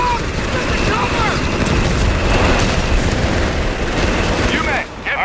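Mortar shells burst amid a dense battle soundscape in Company of Heroes 3, with continuous booming and crackling gunfire filling the mix at a steady loud level and voices shouting over it.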